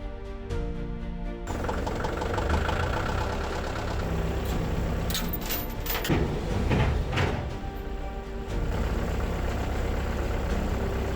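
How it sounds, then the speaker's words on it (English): A tractor engine idles steadily nearby at Fort Chadbourne Cemetery with a low rumbling drone, joined midway by a few clanks and rattles. "Gonna let that tractor warm up"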